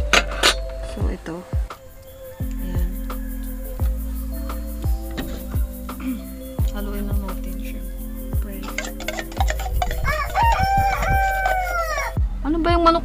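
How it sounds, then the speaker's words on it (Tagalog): A rooster crows loudly and close by in a home kitchen setting in the Philippines, a long drawn-out call near the end, amid clinks of utensils and other household sounds. "Ang ingay naman ng manok."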